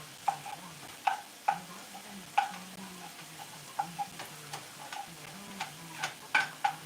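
Sausage stirred in a rare cast iron skillet, a soft sizzle under sharp, irregular utensil taps and scrapes against the iron, close and fairly quiet.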